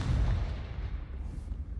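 The Confringo blasting spell in a Hogwarts video game: a heavy, low, booming blast that rolls off and fades over under two seconds, with no voice over it.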